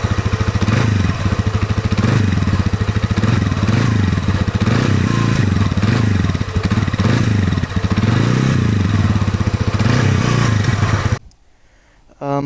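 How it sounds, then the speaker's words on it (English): A motorbike engine runs loud and close, idling with a throbbing, rough rumble and rising into revs several times before cutting out abruptly near the end. "I'm probably at some point going to cut a clip of how the bike sounds."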